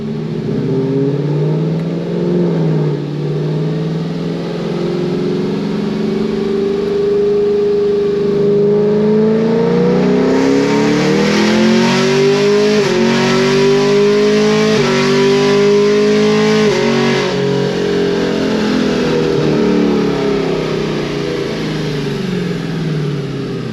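A car fitted with headers making a transmission pull on a dyno, engine roaring loud and steady, pitch climbing through the gears with brief dips at each shift, no voices.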